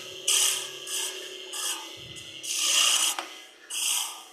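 A turning tool cuts a small wooden Christmas tree on a wood lathe, in rasping bursts of shaving noise separated by short pauses over a steady motor hum.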